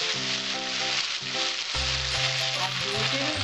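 Garlic and ginger paste fries in oil with white cumin, a steady close sizzle that runs throughout beneath background music.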